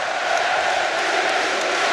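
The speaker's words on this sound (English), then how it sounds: "French crowd starts giving some voice." A French rugby crowd at a Rugby World Cup match against New Zealand roars in a dense, sustained wash of cheering and chanting, distant and steady with no breaks.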